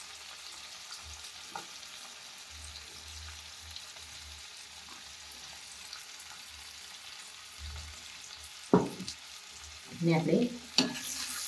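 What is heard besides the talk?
stirring curry with crushed peanuts and garam masala in pan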